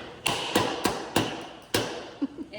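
A liposuction fat filter canister is banged to loosen fat, giving five sharp, close thuds at uneven intervals followed by a couple of lighter taps.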